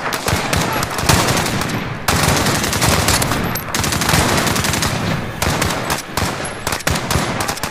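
Loud, sustained automatic gunfire from the video game Call of Duty: Modern Warfare, dense rapid bursts broken by short pauses, filling the whole stretch with little else audible.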